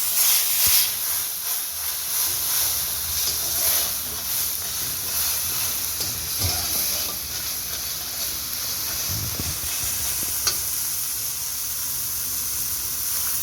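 Water poured into a hot pan of frying spices for an egg curry sets off a loud, steady hiss and sizzle that runs throughout, with a few brief clinks near the end.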